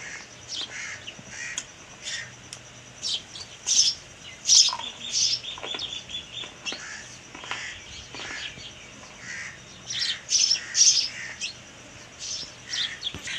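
Birds chirp and call repeatedly in scattered bursts, with crow-like caws among the tweets, fairly faint and outdoors with no talking.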